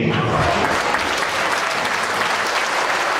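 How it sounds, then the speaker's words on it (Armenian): Loud, sustained applause from an audience at a celebration, dense steady clapping filling the whole stretch close up, with no break and only faint crowd murmur beneath. "ուղիղ մեկ րոպե բարձր ծափարելու զիկերի"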